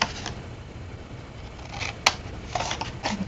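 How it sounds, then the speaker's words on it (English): Scissors snip through paper while cutting out the corners of a folded paper box: a few quick, close cuts at intervals, with a sharper snip near the middle and a cluster of cuts toward the end, in a quiet room. "And then we're going to cut out all of our corners here."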